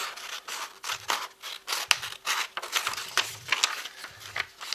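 Scissors cut out a paper logo for a pop-up card, close rhythmic snips and crisp paper rustles repeating about twice a second, alone without talk.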